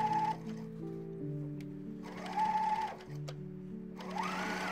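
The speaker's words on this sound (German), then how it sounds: "Ich mache das jetzt hier mit 3 Fäden meiner Overlock." A three-thread overlock serger runs steadily over fabric edges, a close mechanical whir that pulses with speed changes and brief pauses, alone without talk.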